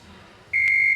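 Workout interval timer sounds one loud, steady electronic beep in the second half, after a quiet start.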